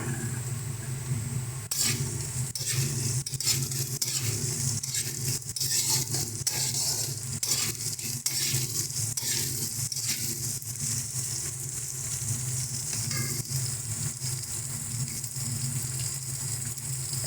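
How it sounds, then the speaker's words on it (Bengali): Beans, carrot and cashews sizzle steadily in hot oil for fried rice, a dense continuous frying hiss with intermittent scraping stirs and clinks of a spatula against the pan, close and fairly loud throughout. "চলো এবার কাজুটা আর বিনসটা ভালো মতন করে একটু ভাজা হোক"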